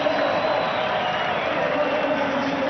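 A large crowd in the Dubai Sevens rugby stadium roars and applauds during the Japan versus Samoa match, a continuous dense wash of cheering with a commentator talking over it throughout.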